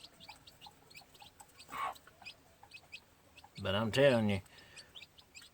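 Young gamefowl chicks of a hatch gray line peeping in a steady chirping chatter nearby, while someone briefly speaks over them.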